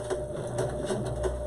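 A sewing machine zigzag-stitches a reusable cloth face mask: a steady, close mechanical whirr carries a quick regular ticking pulse through the short burst of running.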